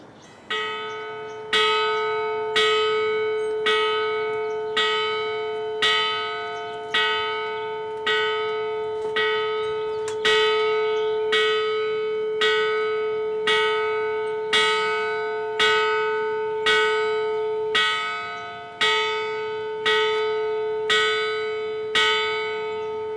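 A college commencement bell tolling in honor of the graduating class, loud resonant strikes at an even slow pace, each ringing out and decaying before the next, continuing without voices.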